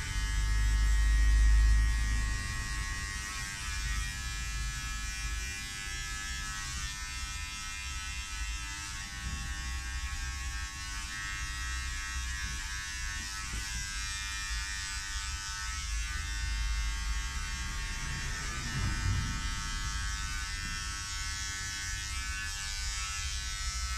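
An electric hair clipper buzzes steadily and close up throughout a number 3 haircut, holding one continuous drone with slight shifts as it moves across the head and no talking over it.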